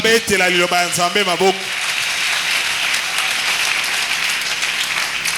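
A church congregation breaks into sustained applause, steady and full, following a few seconds of a voice calling out over the room.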